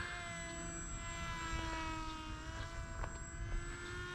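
A Dancing Wings 600mm Mini Rainbow RC plane flies overhead with a steady, high-pitched electric motor whine that shifts slightly in pitch, moderately distant, with no talk.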